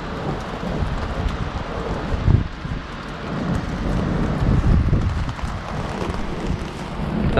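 Rain and strong wind buffet the top of a church tower in London, a steady rushing roar with gusty swells and no talk.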